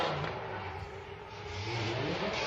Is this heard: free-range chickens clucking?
no